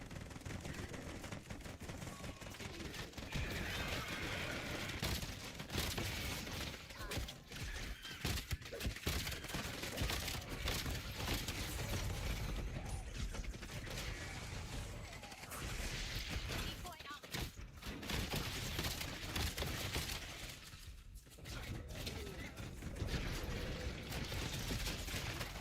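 Dense, continuous Call of Duty gunfire with rapid automatic bursts and occasional heavier blasts, loud and hectic throughout, with a player talking over it.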